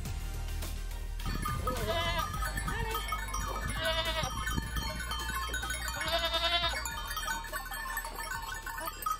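Several goats grazing ski slopes at Les Gets bleat in overlapping, wavering calls, some near and some farther off, over a busy outdoor background.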